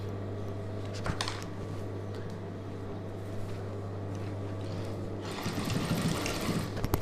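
A sewing machine motor stitches chudidhar sleeves with a continuous close whirring hum that lasts the whole stretch and grows slightly louder and busier near the end.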